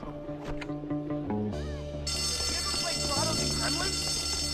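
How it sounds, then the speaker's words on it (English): A school fire alarm pulled in the video game Bully, switching on partway through as a loud, continuous electronic ringing that fills the scene, with background game sounds and voices. "Wait, here's a fire alarm."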